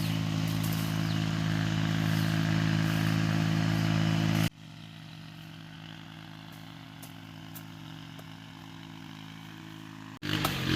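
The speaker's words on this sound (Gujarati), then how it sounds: "આ મશીનનો અવાજ આવે છે ને એ બાજુમાં ટ્રેક્ટર ચાલે છે એનો અવાજ આવે છે" A farm cutting machine runs with a tractor working nearby, making a loud, steady engine drone that abruptly drops to a quieter continuous hum, then surges back at the end. No talking.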